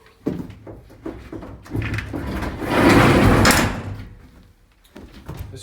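Door on a 1974 Chevrolet P30 step van swung open nearby, with clunks and rattles leading into a louder broad whoosh of movement, then settling to quieter scattered knocks.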